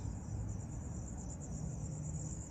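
Crickets chirp steadily and continuously in a cemetery at night, a high shrill trill over a low background hum, even in level and uninterrupted throughout.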